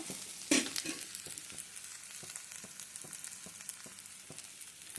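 Onions fry for a chicken curry, a soft continuous sizzle from the pan broken by regular scraping taps as they are stirred, close and fairly quiet, with no voices.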